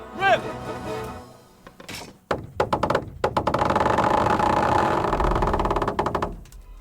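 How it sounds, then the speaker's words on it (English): A trebuchet fires its first shot at castle walls in Kingdom Come Deliverance: a heavy wooden creak and thunk, then a long rumbling, clattering release and impact, with a voice speaking over the start. "That was just the first shot. The trebuchet has to be calibrated."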